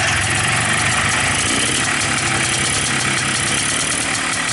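A Polaris Xplorer 250 ATV fitted with a Yamaha Blaster carburetor runs close by, its engine holding a steady, loud, even drone throughout without clear rises or drops.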